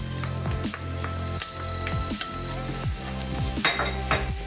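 A spoon stirs spicy potato and chickpea samosa filling with green chillies and pomegranate seeds in a sizzling pan, with steady frying hiss and rhythmic scraping strokes about every half second, close and alone.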